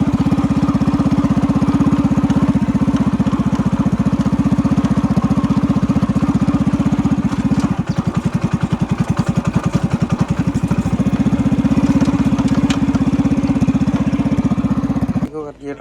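A Yamaha RX 100 motorcycle engine fitted with a muffler runs steadily close by, a loud continuous two-stroke drone with a brief rev and lumpy idle in the middle before cutting off at the end.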